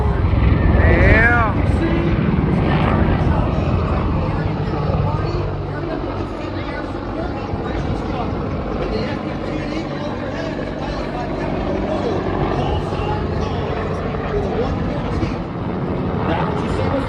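A military aircraft flies at the JBLM air show, giving a loud, steady roar that booms throughout, with a brief rising whine near the start and crowd and outdoor noise mixed in.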